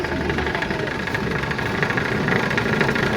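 A cotton candy (hawai mithai) machine runs with a steady, close mechanical whir and faint rattling vibration, droning evenly throughout.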